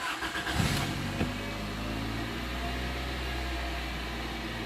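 Car engine running at a high idle, with ECU-controlled idle set high, a steady low hum with a brief start-up burst at the beginning, then a continuous even drone close by with no talk.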